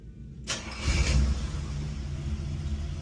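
A 1965 Pontiac LeMans cranks and fires after a moment of silence, then settles into a steady, deep, rumbling idle close by.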